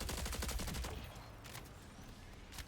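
Rapid gunfire in the Marathon video game, a quick burst of close automatic shots at the start followed by a couple of sparser distant reports.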